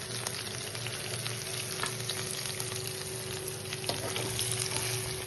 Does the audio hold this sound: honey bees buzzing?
no